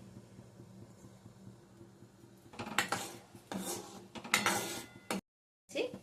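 Orange zest is mixed in a bowl for orange jelly, starting very faint and then turning into several close bursts of scraping and rubbing against the bowl, followed by a short silence and one more scrape.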